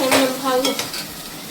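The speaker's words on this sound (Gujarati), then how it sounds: "અત્યારે સંભારો વઘારે છે મરચા બટેકાનો" Chilli and potato sambharo sizzles loudly in a pan as it is tempered, a close, steady hiss and crackle with stirring clatter over a Gujarati home-cooked meal.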